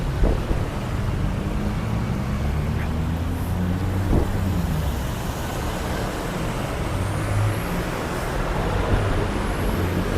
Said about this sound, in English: Traffic building up a little bit now,